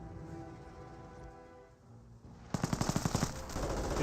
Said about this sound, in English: Oh, I hear some STGs here